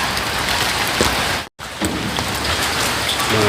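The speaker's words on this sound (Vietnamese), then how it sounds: "Mà trời mưa thế này" Steady heavy rain falling outside near a house, a dense, loud, continuous hiss with a brief dropout midway and no voices.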